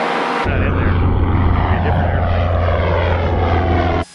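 A small private propeller plane climbs after takeoff, its engine drone loud, close and steady throughout with a sudden cutoff at the end.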